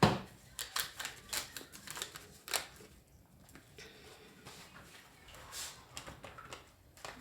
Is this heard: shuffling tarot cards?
yes